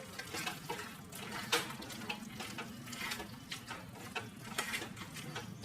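Water is poured into a pot of Chettinad mutton chukka as it cooks, a quiet, continuous splashing trickle with irregular small bursts, heard close up without speech.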